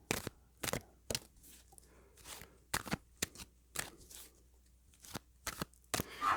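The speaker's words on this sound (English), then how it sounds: "Tell me when to stop shuffling." A deck of cards is shuffled by hand in a quiet room, giving a series of short crisp riffling bursts at irregular intervals, close and fairly soft, with no talking.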